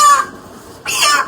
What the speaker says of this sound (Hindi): तो आज भी मुर्गा आया हुआ है घर पे।